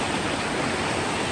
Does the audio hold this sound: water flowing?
yes